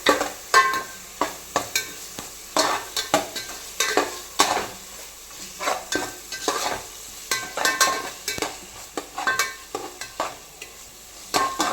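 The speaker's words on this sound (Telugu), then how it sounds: "చూడండి అల్లం వెల్లుల్లి పేస్ట్ కూడా వేగిపోయింది" Ginger garlic paste frying in a pan with tomato for egg pulav, giving a steady sizzle broken by frequent close scrapes and clinks of a spoon stirring, with no talk.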